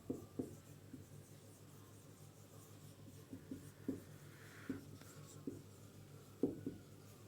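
Chalk or marker scratching across a classroom board during a physics lesson, quiet short strokes in an irregular rhythm with small taps between them, no talking.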